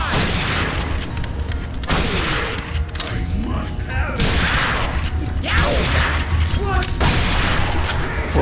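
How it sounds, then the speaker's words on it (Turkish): Machine gun fire in The Darkness II plays as loud sustained bursts of rapid shots with short breaks between them, set against heavy game effects and background noise. "Bir makine tüfek verdin."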